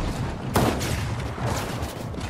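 Gunfire in a competitive duo match of a shooter video game, a sharp burst of shots near the middle over a dense, loud game soundscape, with no speech.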